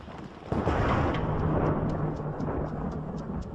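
Thunder rolls in a long, heavy rumble on a coastline in the Afar region, starting with a sudden crack and staying loud and steady for several seconds, with rain-like hiss throughout.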